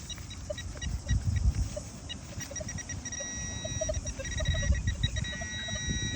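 A metal detector's electronic tone warbles continuously with scattered beeps while detecting a coin outdoors in Auckland, New Zealand, over a low rumble of handling noise.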